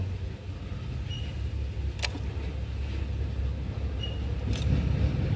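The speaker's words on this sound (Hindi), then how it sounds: "ये स्टार्ट अभी दिखाता हूँ मैं आपको।" Yamaha R15 V3 BS6 motorcycle engine runs at a steady low idle after starting, a constant close rumble with two brief sharp clicks over it and no talking.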